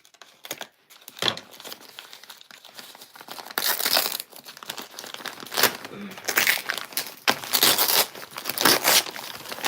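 Package paper and plastic wrapping from a subscription box crinkle and tear in bursts as it is opened up close, with brief speech mixed in.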